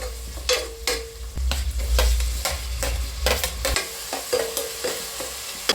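Onions frying in a pan with bay leaves for Malvani chicken, a constant sizzle broken by repeated scraping stirs and sharp utensil knocks against the pan, close and fairly loud, no voices.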